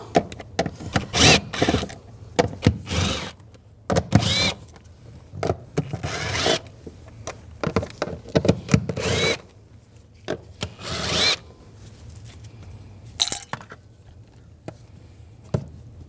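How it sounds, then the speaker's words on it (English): An 8mm socket removing bolts over the fuel pump module of a 2006-2009 Mercedes-Benz E350 with a 3.5L V6, heard as loud bursts of a power driver spinning and whirring in short repeated runs with brief pauses between them. "Using a 8mm socket, we're just going to take these bolts out."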